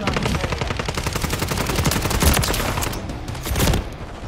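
Rapid automatic weapon fire in a Call of Duty multiplayer match, a dense unbroken stream of sharp shots with a few heavier bursts near the end, loud and close.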